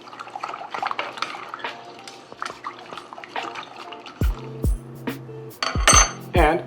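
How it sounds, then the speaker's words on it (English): A spoon stirs turbinado sugar into a drink mixture for a bourbon pear sour, giving quick clinks and scrapes against a glass or metal vessel, with a few louder clanks toward the end. "I'm going to give this a quick little stir."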